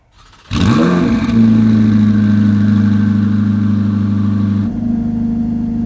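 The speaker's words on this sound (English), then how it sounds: "to start this vehicle, all you got to do is hit the brake, pull down the master switch" Ferrari 488 Challenge Evo race car engine cranks and fires, settling into a loud, steady high idle heard from inside the cabin, then dropping slightly in pitch near the end.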